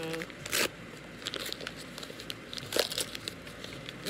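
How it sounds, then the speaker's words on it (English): Tissue paper crinkles and rustles as a small mailed plant is unwrapped, close soft crumpling with a few sharper crackly bursts and brief handling noises. "says take out the tissue. And unwrap."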